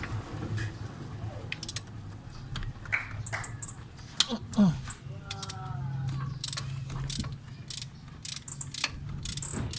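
A ratchet with an extension loosening clutch bolts on a Mitsubishi Lancer, giving repeated clicking and metallic turning under a steady background hum, with short metal clinks throughout.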